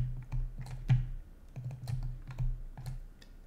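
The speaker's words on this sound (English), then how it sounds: "Clicking and dragging, double click here." A computer mouse is clicked and dragged while working in Maya 3D software, with soft, irregular close clicks over a low steady hum.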